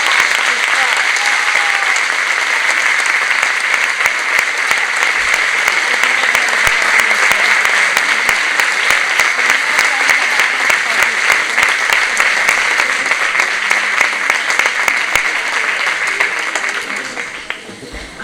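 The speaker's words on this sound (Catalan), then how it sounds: "Amb aquest aplaudiment acomiadem a Carmen de l'escenari" A dense, loud audience applause fills a hall at a falla presentation, holding steady for around seventeen seconds before tapering off at the very end.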